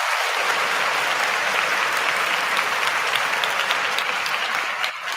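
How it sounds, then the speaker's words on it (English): Canned applause played from a soundboard, a continuous wash of many hands clapping at steady, full loudness for several seconds before dipping slightly near the end. "Let's give everybody a nice round of applause on the soundboard again."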